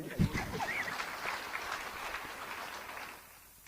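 Audience clapping at a religious talk on prayer life, a burst of applause from a gathered crowd that swells briefly and then fades toward the end.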